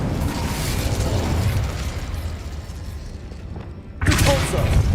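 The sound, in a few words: Confringo explosive spell cast in Hogwarts Legacy video game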